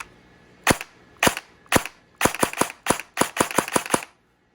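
Krytac Kriss Vector airsoft AEG with rear-mounted wiring, fired unloaded with no battery in the stock, cracking off sharp close shots, single at first and then quick pairs in two-round bursts, with no talking.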